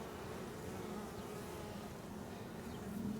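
Honey bees hum in a dense, steady drone close by during a first hive inspection, a continuous buzzing with no speech.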